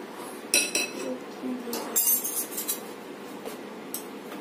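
A spoon clinks against a bowl while Oreo biscuit cake batter is mixed with warm milk, giving scattered light taps and clinks at close range, with no talk.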